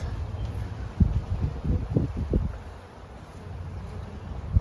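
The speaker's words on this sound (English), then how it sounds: "And there are a lot of bees buzzing." Bees buzz around a flowering fruit tree in a home garden, a soft, steady hum heard under gusting wind noise and leaf rustle, with no talking.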